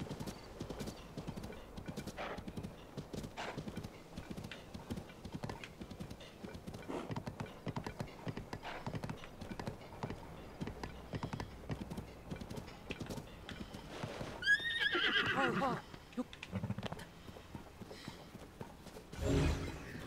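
Horses in the video game Tears of the Kingdom clip-clop at a steady walking pace, fairly faint, with a whinnying neigh rising near the middle-to-end and a few clicks and rustles around it.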